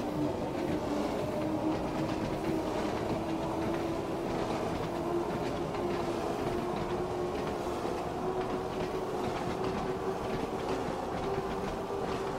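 A Class 483 train running on the Isle of Wight route in Train Sim World 2, a continuous loud rumble with a steady motor whine and rhythmic clatter of wheels over rail joints, with no talk.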